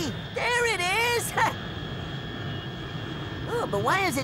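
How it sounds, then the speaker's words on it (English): A high-flying airplane in an animated kids' show gives a steady, distant engine drone that runs through the clip, while cartoon voices and sweeping sound effects come and go over it. "That's a real plane, Squidgy."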